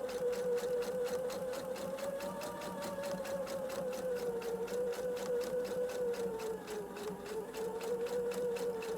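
A sewing machine topstitches a straight center back seam with a steady, fast, even rhythm of stitches that runs without a break at moderate volume.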